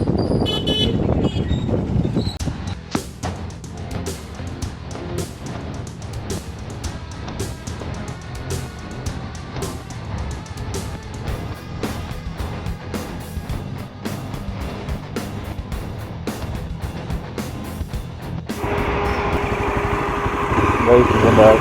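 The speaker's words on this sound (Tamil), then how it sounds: "இதான் வண்டி திரும்புறது." A vehicle turns on a winding hill road in the Kolli Hills, its engine droning loud and steady throughout, with short horn toots and a voice talking.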